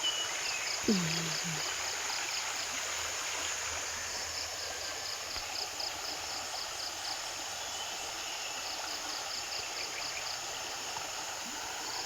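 A stream flows steadily in the countryside of San Martín, Agusan del Sur, a soft continuous rushing wash heard from a moderate distance. Insects chirp in a faint rhythmic pattern above it, and a brief voice sounds near the start.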